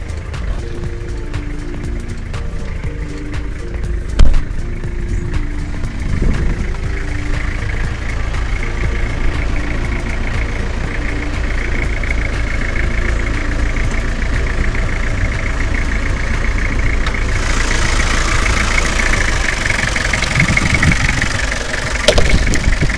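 A 2001 Toyota Kijang Krista diesel engine idles steadily with a rhythmic clatter and low rumble, close and continuous, with no throttle applied.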